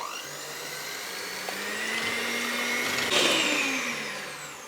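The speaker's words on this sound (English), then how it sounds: "I'm going to be mixing now with the food mixer" A food mixer whips fresh double cream with a steady, loud motor whine that rises slightly in pitch partway through and holds alone, with no talking.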